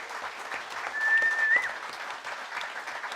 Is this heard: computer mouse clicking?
no